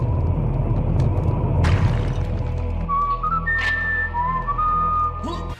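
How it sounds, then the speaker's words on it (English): A whistled Indiana Jones tune from the game Limbo of the Lost plays as a few clear sustained notes over a loud, steady low rumble, near and distinct, with no voices. "Okay, they had a little Indiana Jones tune."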